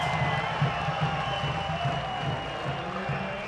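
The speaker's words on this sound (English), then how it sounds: "applause for the flock end" A stadium crowd at a Forward Madison FC versus South Georgia Tormenta FC soccer match applauds and cheers, a faint, distant, steady roar of clapping and voices.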